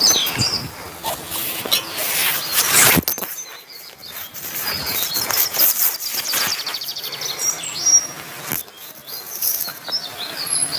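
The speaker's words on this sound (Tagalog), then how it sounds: "Ang ingay ng mga ibon." Birds chirp and tweet outdoors in a steady, busy chorus, with rustling and insect-like buzzing in the background and no talking.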